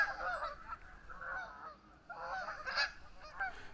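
A small gaggle of geese honks on the water on a foggy morning near a New Brunswick campground, with repeated overlapping calls at moderate distance over a soft background hiss.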